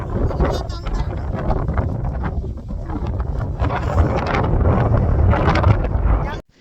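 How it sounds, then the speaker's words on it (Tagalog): Strong wind roars and buffets the microphone continuously, a loud rushing blast that cuts off abruptly at the end. "Guys, ang lakas ng hangin."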